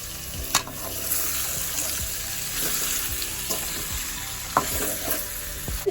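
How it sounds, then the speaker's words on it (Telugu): Chicken pieces sizzling in hot oil in a pan for a Telangana chicken curry, with a steady frying hiss broken by scraping, knocking spoon strokes as the mix is stirred, close up and with no voices. "ఇప్పుడు లాస్ట్లో చికెన్ వేస్తున్నాం బాగా మిక్స్ చేసుకుందాం"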